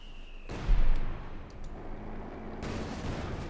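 Tank gunfire hitting infantry in the Company of Heroes 2 video game, a single booming blast followed by a rumbling explosion tail and lingering battle noise.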